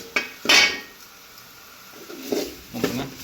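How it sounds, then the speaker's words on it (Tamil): Bitter gourd stir-fried with salt in a pan, a few close metallic scrapes and clinks of a spatula against the pan, spaced apart over quiet background. "தேவையான உப்பு போட்டு நம்ம வதக்கிட்டு இருக்கிறோம்"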